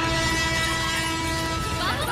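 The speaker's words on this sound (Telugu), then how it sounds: "ట్రైన్ వస్తుంది." A train approaches with a continuous rolling rumble and sustained tonal horn-like notes. The sound stays loud and steady throughout the short moment.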